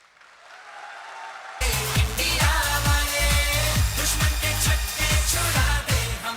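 A seminar audience claps loudly and steadily for several seconds at a motivational training session, with dense, sustained applause that starts suddenly after a quiet moment.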